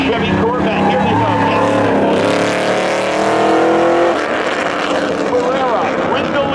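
A 1992 Chevy Corvette launches in spectator drag racing at Seekonk Speedway, engine revving hard and climbing through a loud surge before pulling away, with a track announcer talking over the noise.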